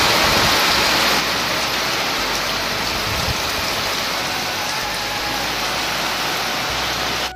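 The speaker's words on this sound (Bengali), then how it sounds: "কি পরিমাণ বৃষ্টি আর হাওয়া নেমেছে, যেমন বৃষ্টি নেমেছে তেমন হাওয়া।" Heavy rain driven by strong wind pours in a dense, constant roar, loud and close, steady throughout.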